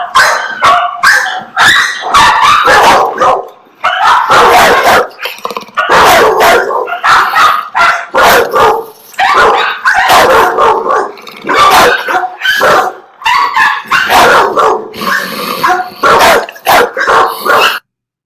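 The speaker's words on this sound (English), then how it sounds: "here's another dog who is wagging, and she's willing to interact" Pet dog at a canine communication workshop barking and yipping repeatedly in dense, loud bursts, with brief growls through the stretch and a short pause near the end.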